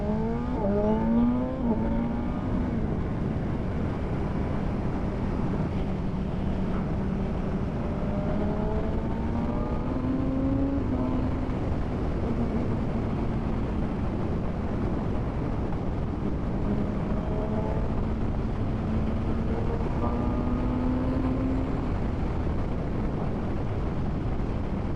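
A BMW M1000R Competition motorcycle accelerates through several gears, its inline-four engine pitch sweeping up repeatedly with shifts between, loud and steady under constant wind noise.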